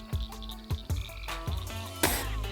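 A frog croaks in short, repeated calls at night during frog gigging, several distinct croaks close by with a longer rasping call at the end.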